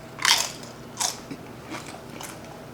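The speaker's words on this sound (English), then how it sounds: "You don't want to sit here and crunch in your ear." Someone bites and crunches into smoked chicken wing dip on a crisp snack, giving a few sharp crunches close to the microphone, then quieter chewing, with no talking.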